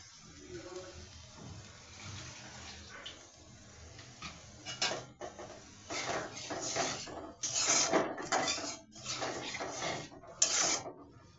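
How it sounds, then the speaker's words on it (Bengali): A kilogram hilsa fish stirred and sautéed with a little water in a pan gives wet sizzling and scraping bursts that grow louder and more frequent, with utensil clinks, under occasional talk. "এখন এখানে একটু পানি দিয়ে এটা কষাই নিব ভালো করে"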